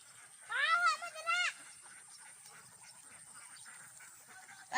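Farm ducks calling outdoors, a burst of several loud, nasal quacks in quick succession, then quieter background sound with faint distant calls.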